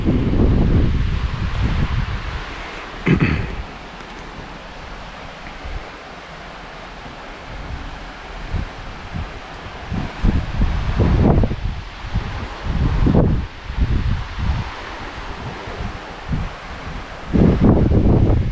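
Wind gusting around a tall wooden lookout tower in Estonia, a broad, rushing roar that swells and fades in waves, loud and close with buffeting bursts against the microphone and no talking.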